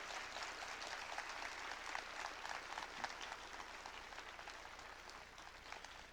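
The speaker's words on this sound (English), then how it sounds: "a big round of applause for Alexander" Steady applause from a conference audience for a speaker, a dense even wash of clapping held at a constant level for about six seconds, faint and distant, with no talking over it.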